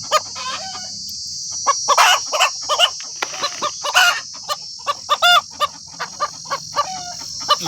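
A native black country hen clucks and calls up close in a run of sharp, repeated bursts, with other fowl sounding alongside over a constant high background hiss.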